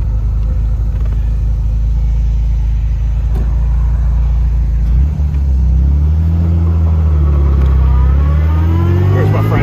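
A 1967 Austin Healey 3000 MkIII, warmed up with the choke off, rumbles steadily at idle, then revs and pulls away, engine pitch rising and falling through gears, loud and close throughout.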